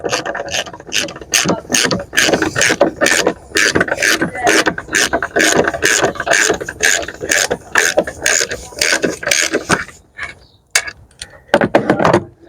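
A ratchet wrench undoing a suspension leg bolt on the front suspension of a BMW E92 3 Series, heard as rapid, close, steady clicking bursts that break into shorter, spaced runs near the end.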